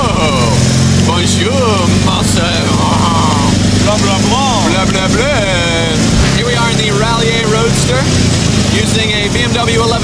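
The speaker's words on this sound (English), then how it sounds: "Using a BMW 1150 RT motorcycle engine." A loud BMW 1150 RT motorcycle engine in a Citroen car chassis runs steadily throughout, a throaty motorcycle-style drone with shifting revs, while voices talk over it.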